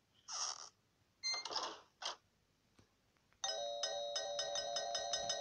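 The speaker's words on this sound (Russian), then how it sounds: "Чем ему не угодил мой новый звонок?" A new doorbell plays a bright, repeating electronic chime melody after a few short knocks on a door, the tones ringing steadily and close for several seconds.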